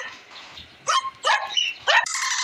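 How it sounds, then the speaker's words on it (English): A dog gives three or four sharp barks or yips in quick succession, fairly close and loud, ending in a higher whine-like tone, with no talking. "Dog."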